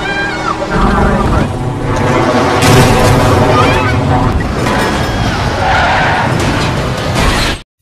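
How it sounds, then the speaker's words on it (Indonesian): A car skids and overturns on a bridge in a film scene, with loud screeching, crashing impacts and dense action noise throughout, under a narrator's voice. "Tiba di jembatan, mobil broker terbalik."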